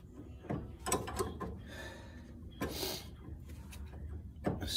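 A ratchet socket wrench clicking as it turns a ball joint nut on a 1966 Plymouth Barracuda, close and fairly loud, in uneven bursts of rapid ratcheting clicks with pauses between strokes.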